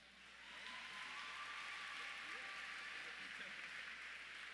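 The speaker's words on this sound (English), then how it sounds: "Please give them a round of applause" Audience applause for graduating students at a 2015 high school and young women's leadership academy graduation ceremony, a steady, dense wash of clapping sustained throughout at a distance, fairly faint.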